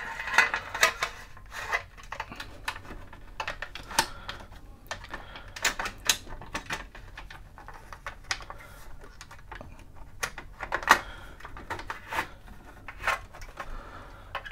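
An Oceanic OC-118 floppy drive is put back together, giving sharp, close clicks, taps and small plastic-and-metal clatters at irregular intervals, with quiet pauses between them.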